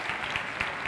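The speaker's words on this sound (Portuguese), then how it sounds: "Salve de palmas para o Felipe participando" Audience applause for Felipe during a talk, a short burst of dense, even clapping from many people at moderate volume.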